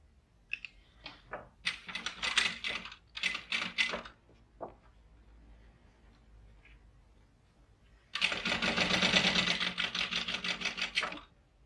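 A sewing machine top stitches a seam on a fabric pouch in short bursts of stitching, then a longer continuous run near the end, close and moderately quiet, separated by quiet gaps.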